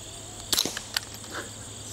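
A single suppressed .22 rimfire shot with subsonic ammunition through a Bowers USS22 silencer, a quiet sharp crack followed by a faint second impact-like tick, outdoors at a testing facility, with no talking.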